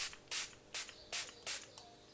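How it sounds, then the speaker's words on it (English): Il Maquillage hydrating setting spray misted from a pump bottle in four short, bright hissing bursts at a steady rhythm, close and fairly quiet, with no talking. "I'm going to use my Il Maquillage Hydrating Setting Spray"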